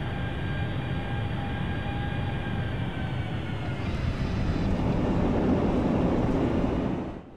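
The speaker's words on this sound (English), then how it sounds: "Now we're on final approach, let's listen in to this landing." A QualityWings 757 airliner landing in FSX flight simulator: a steady, loud jet engine roar with a whining tone that swells slightly toward touchdown, then drops away abruptly at the end, no talk.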